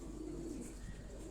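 Pigeons coo in a steady low murmur at a Lahore pigeon-keeping gathering, soft and continuous over faint background noise, with no talking.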